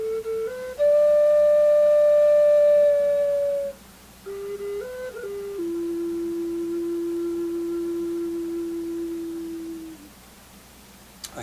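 Ocarina flute playing a few long, pure sustained notes, each held steadily and then allowed to fade out, with short gaps between them and no other sound.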